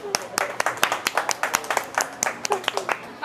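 A crowd claps at a street food stall in Cebu while a host eats, giving fast, sharp, irregular hand claps close by, many quick bursts over a few seconds.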